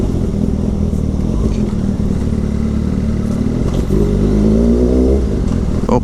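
A motorcycle engine runs close by, a steady loud rumble with slight revving swells and some clatter throughout.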